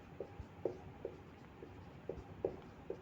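Chalk or a marker taps and scrapes on a board in short, evenly spaced strokes during a Hindi-medium class 12 physics lecture on electric charge. The strokes are faint against soft room noise, with no talking.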